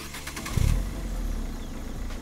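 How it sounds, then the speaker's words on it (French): A Top Gear Polar pickup truck, 17 years old and with low mileage, cranks and its engine catches with a short, deep burst. It then settles into a steady, close, low idle. "Ben oui, c'est un démarrage super doux."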